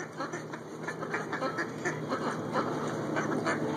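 Several ducks quack repeatedly in quick, uneven bursts, close by and fairly loud, with a faint background hiss.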